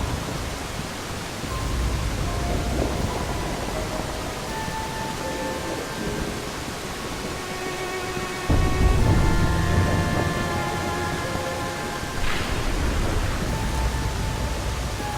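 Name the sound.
rain falling in video game cutscene, Dirge of Cerberus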